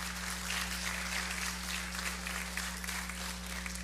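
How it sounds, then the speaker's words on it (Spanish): A church congregation applauds steadily for the television crew, a dense wash of clapping that holds at moderate volume over a low background hum. "Démosle un aplauso a televisión."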